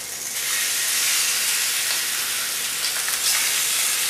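Pork roll slices sizzle loudly in a hot pan, a steady bright frying hiss that carries on without pause and with no talking.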